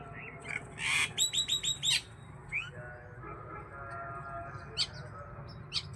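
Sparrows chirp in quick bright bursts as grain is scattered for them, a cluster of rapid calls early on and a few scattered tweets after, over steady outdoor background noise.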